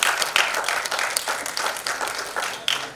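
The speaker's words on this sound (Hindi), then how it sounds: "ऐसे मौके पर तालियां तो बंद नहीं होनी चाहिए।" An audience at an award ceremony applauds, dense steady clapping from many hands lasting throughout with a few louder individual claps standing out.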